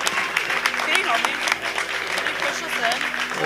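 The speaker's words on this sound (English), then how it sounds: "he'll get a round of an applause as he makes his way out" Crowd at a high school baseball game applauding a pitcher as he leaves the field, moderate clapping mixed with crowd noise and nearby talk.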